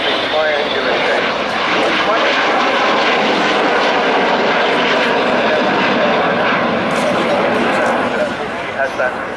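Avro Vulcan XH558 delta-wing bomber passing with a continuous broad jet roar that stays loud and steady throughout, with people talking over it.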